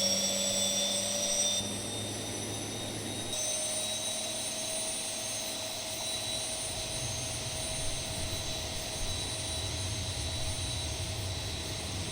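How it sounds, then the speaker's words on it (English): Boeing 737-800 jet engines in the Zibo flight simulator, a steady broadband whine and hum with tonal lines holding throughout, fairly loud and continuous with no talk over it. "I love the sound of the engine."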